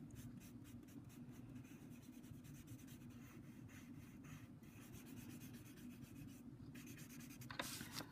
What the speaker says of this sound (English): It's a lot of back and forth with the blending stump and the eraser.